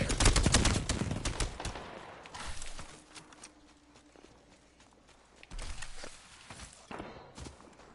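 Gunfire in Apex Legends, a dense burst of rapid shots at the start, then scattered shots and footstep-like taps, with another volley near the end, loud and close, no talk.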